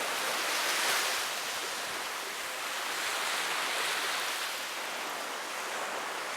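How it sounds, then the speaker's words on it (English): Ocean waves wash steadily onto an open, uncrowded beach in Turks and Caicos. The surf is a continuous broad hiss that swells and fades gently, with some light wind against the microphone and no voices. "Literally just open beach."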